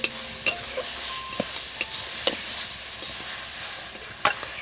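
Red chili dropped into spices frying in a pan: a soft, continuous sizzle with scattered light clicks and taps from stirring, heard close and fairly quiet, without talk.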